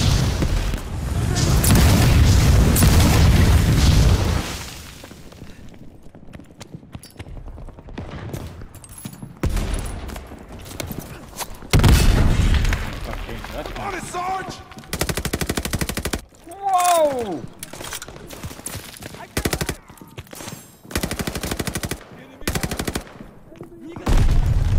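Heavy machine-gun fire, gunshots and explosions in the World War II shooter Call of Duty: Vanguard, loud sustained bursts at first, then scattered blasts and volleys with quieter gaps.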